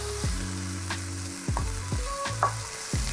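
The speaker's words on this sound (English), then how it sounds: "So now that I've got some fierce sizzling going on" Chicken and pork sizzling and frying in a hot pan, with a spatula scraping and stirring in several bursts over the constant sizzle.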